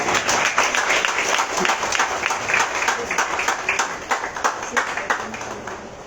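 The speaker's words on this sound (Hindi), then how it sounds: "जोरदार तालियां" Loud applause from an audience at a prize ceremony, as a second-prize winner is called to the stage. Dense, sustained clapping fills the whole stretch with no talking, easing off slightly toward the end.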